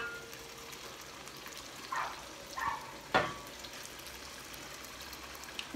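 Onions fry in a pan with a soft, steady sizzle. A few clinks of a utensil against the pan sound in the middle.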